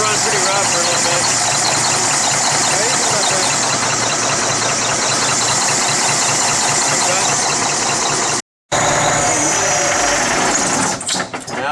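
A Cummins ISX diesel truck engine runs steadily after an injector replacement, a dense loud rumble with rapid rhythmic clatter that breaks off briefly near the end before resuming.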